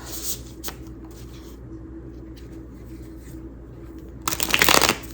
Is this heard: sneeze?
no